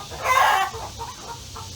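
Chickens on a Pennsylvania colonial plantation, a loud cluck or short crowing burst up close followed by softer clucking and low background murmur.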